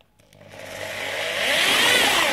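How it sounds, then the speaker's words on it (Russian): An electric drill turns in reverse to mix crushed grapes for wine, its whirring motor rising steadily in pitch and loudness as it spins up, close and alone. "не забываем дрель ставить на обратные обороты, чтобы в нас не летели брызги"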